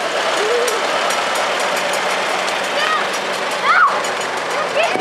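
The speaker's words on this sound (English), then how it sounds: "1953 John Deere 50." A 1953 John Deere 50 tractor engine chugs steadily at idle, loud and close, at a parade, with a voice speaking over it.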